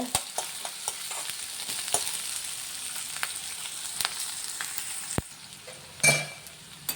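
Onion, green chilli and ginger fry in a pan with a soft, continuous sizzle, broken by scattered scraping stirs and a louder clatter near the end, with no talking.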